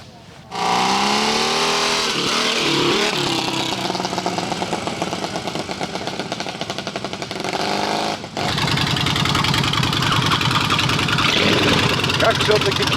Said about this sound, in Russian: Как все-таки классно работает Харлей. Как здорово колбасит двигатель в его браме.